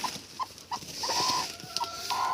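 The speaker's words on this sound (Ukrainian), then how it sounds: "Ой, ось така курочка." A hen clucking in a farm coop, a series of short, close clucks at a steady pace, with a few drawn-out calls, over faint background noise.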